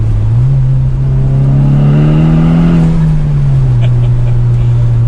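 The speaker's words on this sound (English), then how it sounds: "Let's see if we can hear any of the exhaust" A Volkswagen Golf R engine revs up and its exhaust note rises in pitch, heard with the window down a little, holds for a few seconds, then settles back to a steady drone; no talking.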